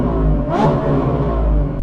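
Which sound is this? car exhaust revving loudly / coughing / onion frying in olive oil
car exhaust revving loudly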